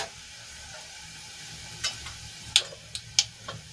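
Mustard seeds crackle in hot oil while tempering for kadhi, a quiet background hiss broken by several sharp, sporadic pops.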